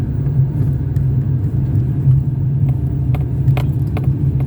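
Cars crawl slowly up a foggy mountain road in Baguio, a steady low engine rumble close by with a few faint clicks and knocks over it.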